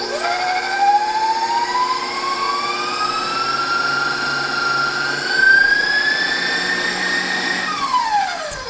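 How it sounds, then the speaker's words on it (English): Electric stand mixer whipping chocolate chip cookie dough with brown butter on high speed, a loud, steady motor whine whose pitch slowly rises, heard up close without any talking. "And then I'm gonna mix this on high speed for about 2 to 3 minutes"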